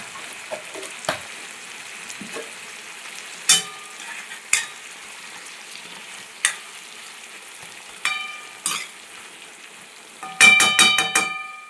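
Cut brinjal pieces fry in a pan with a continuous sizzling hiss, marked by scattered sharp clinks and scrapes of stirring and a quick burst of rapid utensil taps near the end.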